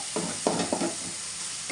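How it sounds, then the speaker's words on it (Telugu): Tomatoes frying in oil for gongura gullu tomato pachadi, a soft close sizzle with a few stirring scrapes and taps across a short stretch. "టమాటా ఆయిల్ వేసి వేపుతున్నాను, మగ్గ పెడుతున్నాను."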